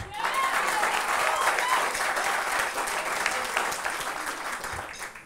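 Steady audience applause fills a late-night talk show studio, dense and sustained for several seconds before gradually thinning out toward the end.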